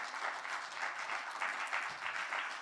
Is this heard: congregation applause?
yes